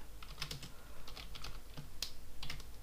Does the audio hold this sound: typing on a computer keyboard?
yes